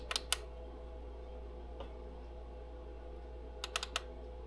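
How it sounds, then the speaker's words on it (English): Button clicks on an HB Toys R1601 remote-controlled car's remote, a quick double click near the start and a cluster of sharp clicks near the end, close and crisp over a steady low hum with no talking. "you click on the little light button twice"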